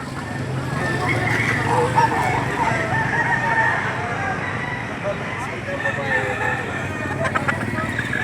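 Roosters and chickens at a livestock auction market in Lipa City, Batangas crow and cluck amid crowd babble and people talking, with the bird calls blending into a dense, steady background of noise.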